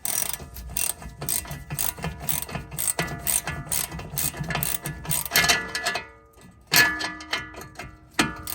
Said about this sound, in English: next is to remove that screw for the nut for the end link.